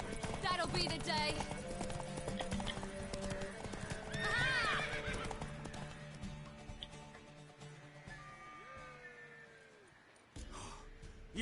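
Horse hooves clatter and a mare whinnies in The Witcher 3, with dense clip-clopping up close, a loud neigh near the middle, and voices talking throughout before things quiet down near the end.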